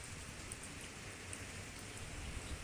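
Steady rain falls through a long day of continuous downpour, heard as an even, faint hiss of drops hitting surfaces outdoors with no speech.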